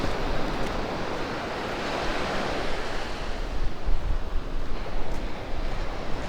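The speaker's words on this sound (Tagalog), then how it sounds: "So medyo maliliit ang bagsak ng alon kung mapapansin ninyo." Small ocean waves wash onto the beach at Baler, Aurora, a steady broadband surf roar with gentle swells rising and falling, mixed with some wind rumble on the microphone and no voices.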